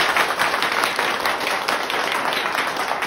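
Applause in a classroom at a mobile repair training institute, a steady wash of many hands clapping together for the full stretch, dense and fairly loud with no pauses.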